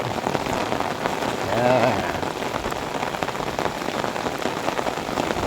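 Heavy rain falls on surfaces near a roadside shop, a continuous close hiss; a voice briefly rises over the downpour partway through.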